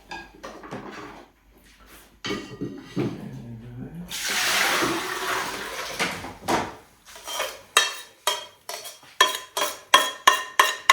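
Honey being stirred into water in a metal pot for dandelion and Douglas fir mead, with a spoon scraping and clinking against the pot in a steady rhythm, near and loud, while a person talks early on.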